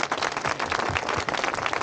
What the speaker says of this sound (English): give the biggest round of applause you can to Caitlin